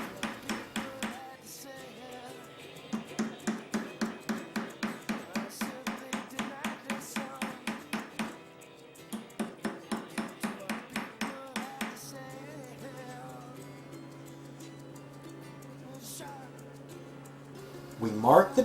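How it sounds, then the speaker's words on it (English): A goldsmith's mallet hammers a metal ring blank against a round mandrel in a rapid, steady series of ringing metallic strikes, pausing briefly mid-run before continuing. "This we do in the most brutish manner by simply striking it repeatedly with a mallet against a"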